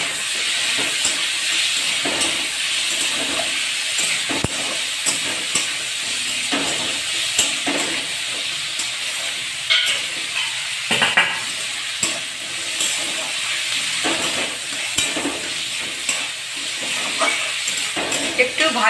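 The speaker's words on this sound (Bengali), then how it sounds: "একটু ভাজা ভাজা হয়ে এলে এগুলো তুলে নেব।" Green chillies and tomatoes sizzle and fry in a pan for shahi paneer masala, with steady hiss and repeated scraping stirs throughout; a faint voice occasionally intrudes.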